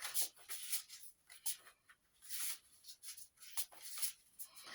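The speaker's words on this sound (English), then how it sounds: "I'm now going to shuffle the Oracle deck." Soft papery riffling and sliding of oracle cards, in quiet bursts of shuffling with short pauses between, close and faint.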